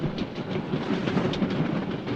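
A train rolls along the rails with a steady rumble and soft clickety-clack, heard from inside the carriage, continuous and moderately loud, with no talking.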